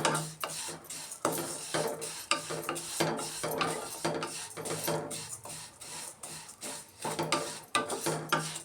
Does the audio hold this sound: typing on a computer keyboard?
no